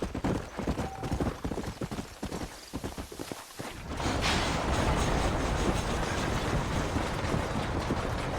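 Horse hooves clip-clopping in the Red Dead Redemption video game, a brisk run of hoof beats that settles into a steady, dense galloping rumble with wheel or wagon noise mixed in.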